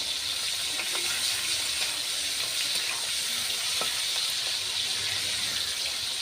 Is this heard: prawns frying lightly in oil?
yes